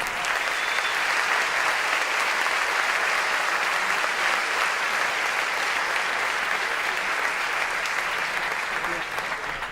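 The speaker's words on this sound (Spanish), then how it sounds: "También pido un fuerte aplauso para ellos." Audience at a political conference with Laje, Milei and Márquez breaks into dense, sustained applause, loud and steady for the whole stretch without letting up.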